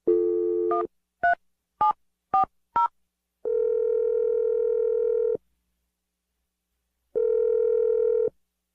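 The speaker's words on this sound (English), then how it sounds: "I'm going to dial the phone number right now" A steady telephone dial tone, then a quick series of dialing beeps, followed by long ringing tones separated by silence.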